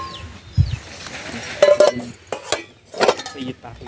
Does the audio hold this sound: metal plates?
yes